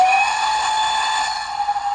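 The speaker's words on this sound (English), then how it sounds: "That's a long whistle." A long steam whistle from the DCC sound decoder of a Hornby GWR King model locomotive, one sustained shrill tone held for two seconds at close range, loud and alone.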